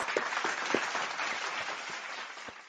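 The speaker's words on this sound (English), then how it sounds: "we got to give a round of applause for Papa J" A small group gives a round of applause indoors, a quiet patter of claps that holds steady and then trails off, with a few louder individual claps standing out.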